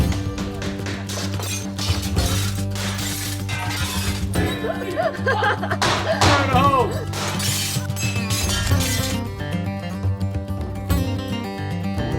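Glass shatters and crashes in several sharp bursts while an old, solidly built timber work shed is torn down during a UK house renovation, with a steady musical bed running underneath.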